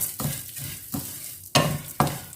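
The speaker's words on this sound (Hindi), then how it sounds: "वैसे ये भुनी हुई हैं, लेकिन इसको थोड़ा सा मैं और भूनूंगी।" Ingredients are roasted further in a pan, a low frying sizzle broken by about five distinct scrapes and clacks of stirring, close and fairly loud.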